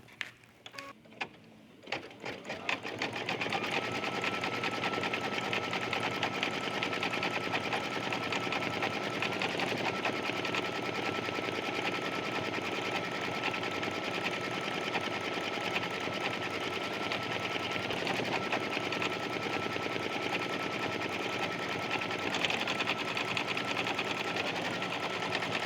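An embroidery sewing machine stitches a design onto a jean jacket, running as a steady, fast, rhythmic mechanical whir that starts after a few brief clicks and continues unbroken, close and fairly loud, with no talking.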